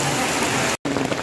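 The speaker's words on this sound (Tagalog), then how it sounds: "Oh, ang lakas ng ulan." Heavy rain pours down in a dense, loud roar on Johnson Island in Roxas, Palawan, cut by a split-second break partway through.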